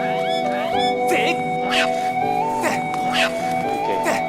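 Cat meows from a Wii game, The Legend of Zelda: Skyward Sword, sounding as a few short calls over game music and effects, with someone talking throughout.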